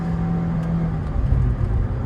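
A Honda S2000 with a manual gearbox revving under acceleration, a steady engine drone that dips and shifts pitch as it passes through a rough change into second gear, heard from inside the car.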